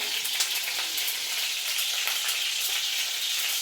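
Home-grown curry leaves crackle and sizzle in hot oil after mustard seeds, a steady dense spitting hiss close up with no talk.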